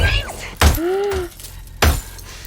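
Glass shatters with sharp crashing bursts, heavy impacts and a low groan in between, from an action scene in the James Bond film No Time to Die.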